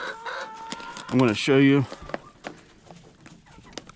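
Hens in a Texas backyard coop during a cold snap cluck and let out a loud drawn-out squawk near the start, then cluck softly under a person talking.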